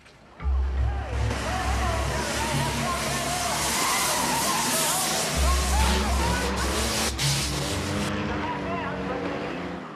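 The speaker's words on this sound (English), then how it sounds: "it's the London taxi cab race, where for once all the drivers can do all the cutting up they like" London taxi cabs racing around a banger racing track, engines roaring loudly with tyres squealing and skidding close by, a continuous mechanical din, with someone talking over it.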